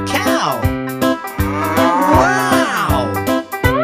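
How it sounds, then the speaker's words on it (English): A cow on a farm moos repeatedly, several loud, close, drawn-out calls with short pauses between them. "I see a cow."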